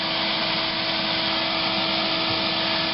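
Vacuum pulling honey bees and honeycomb off a building wall, a loud, constant motor whine and airflow roar, steady and close without talk.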